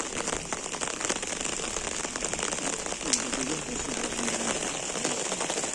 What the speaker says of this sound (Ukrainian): Ой, який дощ пішов.